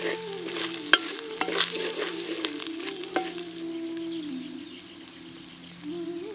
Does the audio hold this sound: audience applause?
no